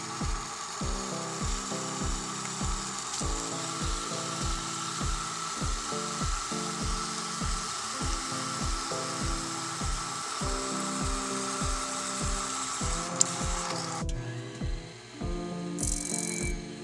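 A small bandsaw cuts through Damascus steel tiles in a home forge shop, a steady mechanical whir with a regular, rapid rhythmic ticking from the machine running throughout, ending with a brief clatter near the close.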